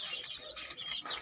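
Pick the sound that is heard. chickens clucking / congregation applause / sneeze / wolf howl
chickens clucking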